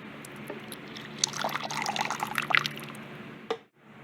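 Water is poured into a small dish inside a pet tarantula's enclosure, a close, quiet trickle and splash rising in the middle, then cutting off with a faint final drip.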